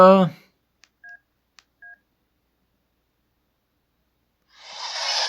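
Keypad tones from a basic AT&T flip phone: two short electronic beeps with faint key clicks, preceded by a brief voice at the start and followed by rising rustling hiss near the end.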